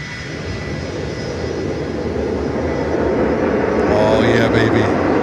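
A cargo freighter aircraft flying in at Miami airport, a steady loud engine roar that swells toward the end, with a voice talking over it.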